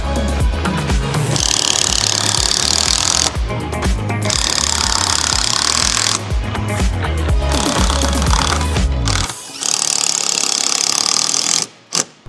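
A power tool drives kit screws into a body kit on a BMW G90 M5, loud whirring and ratcheting bursts in close succession, with brief pauses between screws.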